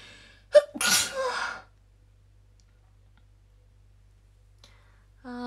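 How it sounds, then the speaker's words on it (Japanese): A single sharp sneeze bursts out close to the microphone against a quiet background, with a faint click afterwards and a brief tone near the end. "あー、くしゃみでそう"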